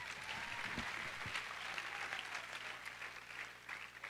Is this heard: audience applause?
yes